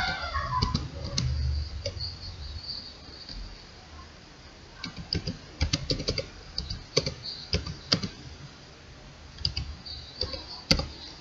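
Keys clatter on a computer keyboard as a command is typed into Node.js. Scattered clicks and short bursts of taps come through fairly faint and close over quiet room noise, with a brief low thump at the start.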